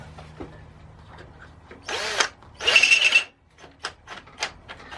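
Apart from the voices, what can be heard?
power drill tightening a bolt on a mini bike light bar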